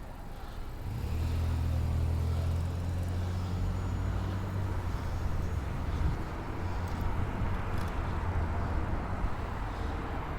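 Continuous New York City street traffic: a low rumbling wash of car and truck engines close by, steady and loud throughout, with faint higher hiss and no speech.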